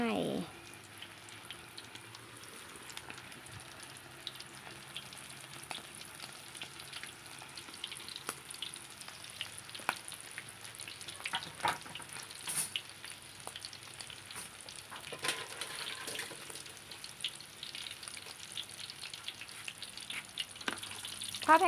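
Shrimp deep-frying in hot oil, a quiet continuous bubbling sizzle with scattered sharper crackles and pops that swell in places, heard close up over about twenty seconds.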